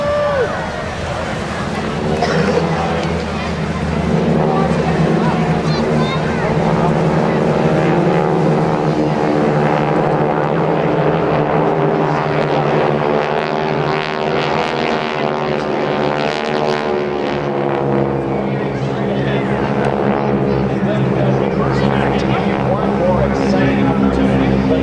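GEICO Skytypers World War II aircraft flying at the 2010 Jones Beach Airshow, a continuous propeller-engine drone heard under a loud announcer speaking throughout.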